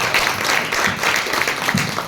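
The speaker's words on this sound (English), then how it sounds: "let's give a round of applause to our moderators and panelists" An audience at a Singapore Sustainability Festival business panel applauds its moderators and panelists, a loud, dense, continuous crowd of clapping close at hand, unbroken across the moment with no voices over it.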